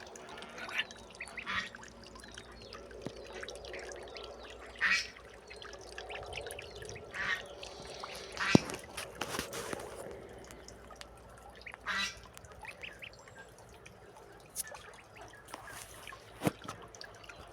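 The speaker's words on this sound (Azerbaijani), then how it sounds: "Qazlar da 3 günlükdür yəqin bunlar" About three-day-old goose goslings peeping in short, scattered bursts, close and fairly soft against a quiet background, with a few sharp clicks and knocks in between.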